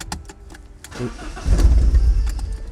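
A car left abandoned for 11 years, cranking as it tries to start: scattered clicks at first, then a loud low churning starter sound that swells and continues steadily to the end, heard alone without talk.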